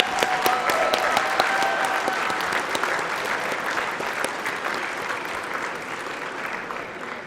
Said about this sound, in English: join me in a round of applause for our graduates again this evening